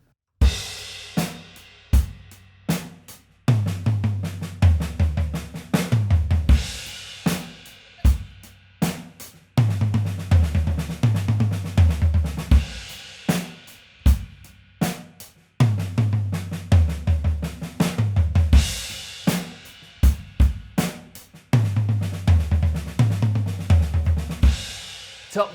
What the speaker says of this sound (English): play a bar of your drum groove and then your 16th note drum fill,